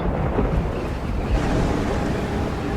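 A wild storm on the alien world Icarus, with a continuous heavy roar of wind and low rumbling thunder filling the whole span, loud and close with no let-up.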